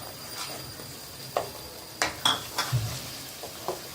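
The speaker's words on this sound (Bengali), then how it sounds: "এটা একদম মাখা মাখা হওয়া পর্যন্ত আমাকে নাড়তে হবে" Spoon stirring a grated coconut filling with salt in a pan for potol dolma, stuffed pointed gourd, giving sparse scraping and clinking knocks of varying loudness over a quiet kitchen background.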